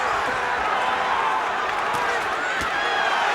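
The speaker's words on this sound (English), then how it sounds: "There is a guttural roar from this crowd wanting to see Gatti close the show." Dense crowd roar at a boxing match, a thick continuous wash of noise with occasional sharp bursts, heard under a commentator's voice.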